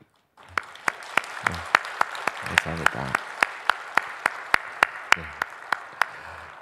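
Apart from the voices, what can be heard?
congregation applause in church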